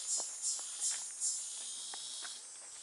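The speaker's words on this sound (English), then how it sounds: "And if you listen carefully, you can hear alien sounds up there. They could also be cicadas." Cicadas buzz near a pyramid in Mexico, a faint, steady high-pitched drone with a few rhythmic pulses at the start and soft scattered taps beneath.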